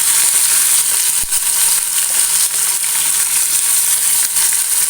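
Small sardines seasoned with pepper frying in a pan, a loud steady oil sizzle with constant bright hiss and faint crackles throughout, no voices.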